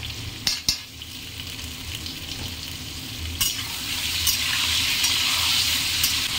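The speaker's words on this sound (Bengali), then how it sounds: "ভালো করে আলুটা ভেজে নেব" Potatoes fry in a pan seasoned with salt and a little turmeric, giving a steady loud sizzle that swells toward the end, with a couple of sharp utensil knocks near the start.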